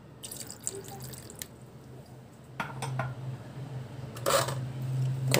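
Vinegar poured into a chicken shawarma marinade of yogurt and sauce or ketchup in a home kitchen, heard as faint, brief liquid splashes and drips against light clinking of bowls and utensils, with no talking.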